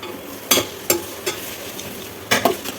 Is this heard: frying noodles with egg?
yes